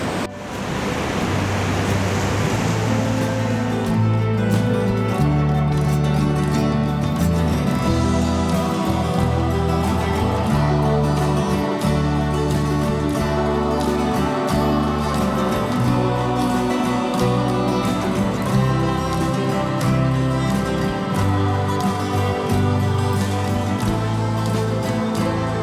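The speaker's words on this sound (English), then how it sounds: "and then the waves in the background" Ocean waves breaking on rocks at a coastal landscape spot: a steady, loud, rumbling wash of surf with constant low roar and hiss, running unbroken throughout without any voices.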